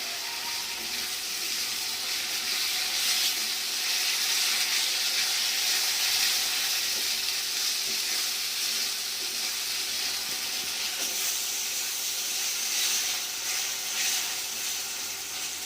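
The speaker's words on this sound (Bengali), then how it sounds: "মশলা ভাজা হয়ে গেছে, এবার তেল ছাড়ছে" Spice masala frying in oil for dhaba-style chicken keema kaleji makes a steady, dense hiss that carries evenly through the clip with no voices.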